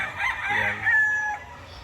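A rooster crows once, loud and close, over faint background clucking as chickens are fed on a farm.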